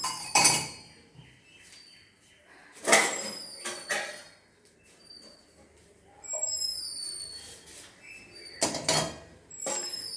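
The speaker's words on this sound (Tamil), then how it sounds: "இது பிளேட்டு பாத்திரங்கள் கவுத்து வைக்கிறது. இது டம்ளருக்கு ஸ்டாண்டு." Plates and tumblers are set one at a time into a kitchen dish stand, each placement giving a sharp metallic clink with a short ringing tail. About five separate knocks are spread across a quiet room.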